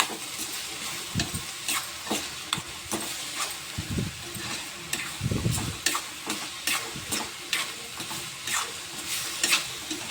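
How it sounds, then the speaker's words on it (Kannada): Masala with red chili powder frying and being stirred in a pan, a steady close sizzle broken by repeated scraping stirs and soft clanks of the spoon. "ಫುಲ್ ಮಿಕ್ಸ್ ಮಾಡಿ ಈ ರೀತಿ ನೀಟಾಗಿ ಫ್ರೈ ಮಾಡ್ಕೋಬೇಕು"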